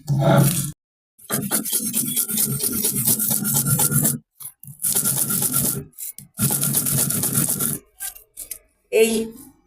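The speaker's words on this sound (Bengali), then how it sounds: "শুটকিটা বেটে নেব এখন লবণ দিয়ে নিছি" Dried shrimp being ground with salt on a flat grinding stone gives loud, harsh rasping strokes in bursts separated by brief pauses.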